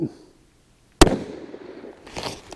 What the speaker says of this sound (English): break a shot, go ahead and cycle it, get back on target, and break another shot.